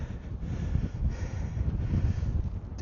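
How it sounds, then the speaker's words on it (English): Strong wind buffets the microphone on an exposed hilltop at the Ash Ranges, a continuous loud low rumble with gusty swells and no clear voices. "It is windy as hell"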